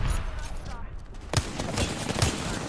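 Gunfire from a PC shooter game: a couple of sharp shots stand out over a busy, noisy battle backdrop, with fairly loud, dense rumble between them.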